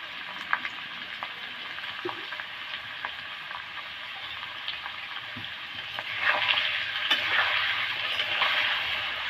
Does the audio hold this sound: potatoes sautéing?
yes